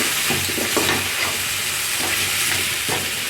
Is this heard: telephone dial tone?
no